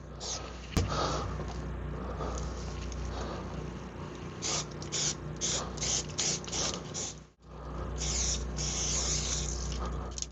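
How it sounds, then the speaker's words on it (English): A spray paint can is misted from a distance over a Yeti cooler being custom painted in camouflage, giving irregular hissing bursts with rattly mechanical clicks and a brief pause partway through. "take a bit of the black and just spray it from a distance to darken everything a little bit"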